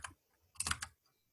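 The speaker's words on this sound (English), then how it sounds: "do you guys see me typing" Several quick clicks of typing on a computer keyboard, a short isolated tap followed by a tight cluster of keystrokes, quiet and close, with no talk.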